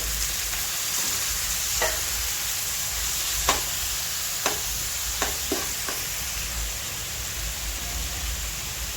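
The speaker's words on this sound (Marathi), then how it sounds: "आता आपण ह्याच्यात टाकणार आहे, आपण कद्दूकस केलेला टमाटर टाकणार आहे" Grated tomato added to golden fried onions for a homestyle potato-pea curry sizzles steadily in the pan, a broad, rain-like hiss broken by scattered sharp stirring clicks and scrapes, close and continuous.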